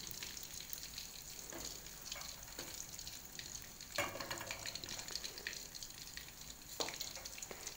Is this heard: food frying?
yes